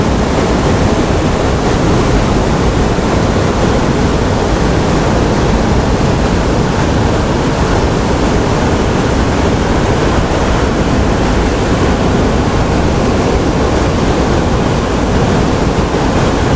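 Water roars through all seven open floodgates of the Pasak Dam, a loud, dense, unbroken rush of white noise that stays constant from start to end, with no voices.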